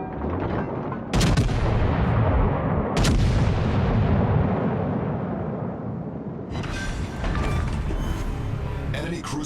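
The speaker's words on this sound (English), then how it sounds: "Concentrate fire on the enemy warship." Warship guns fire in World of Warships: Legends, with loud heavy cannon blasts in a few separate salvos, each followed by a long rolling rumble that fades between shots.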